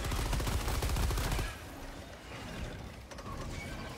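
Rapid automatic fire from the Stalwart machine gun in Helldivers 2, a loud dense burst of rattling shots for about a second and a half, then quieter mechanical clatter and game ambience.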